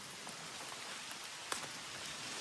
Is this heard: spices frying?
no